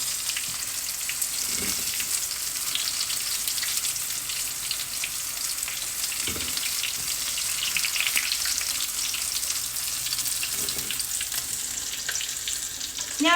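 Green tomatoes frying in grease in a cast iron pan, a steady crackling sizzle with fine popping throughout, broken by a few soft dull knocks.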